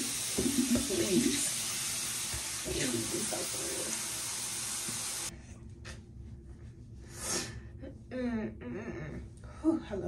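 A bathroom tap runs during face washing, a broad hiss of flowing water for about five seconds that then cuts off, with a voice heard over it and afterwards.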